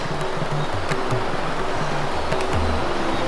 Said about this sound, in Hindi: और बगल में झरना चल रहा है